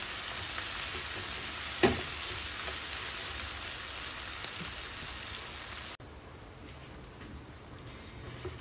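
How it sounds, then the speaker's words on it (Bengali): Spice paste frying in oil in a pan for a king prawn curry, a steady close hissing sizzle with an occasional stir or tap against the pan, softening slightly toward the end. "এই অবস্থায় আমি মশলাটারে বালা করি ফ্রাই করবো, তার কাঁচা কাঁচা গন্ধটা যাইবার আগ পর্যন্ত।"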